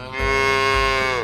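A single long, deep moo from a cow, loud and close, rising slightly in pitch and holding steady for about a second with no talking.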